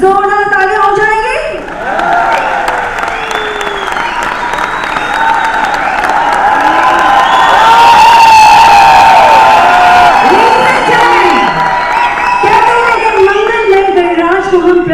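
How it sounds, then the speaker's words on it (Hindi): Crowd at a 25th-anniversary celebration applauding and cheering loudly and steadily throughout, with whoops rising over the clapping and tonal music or voices mixed in. "तो एक बार जरा जोरदार तालियां हो जाएंगी।"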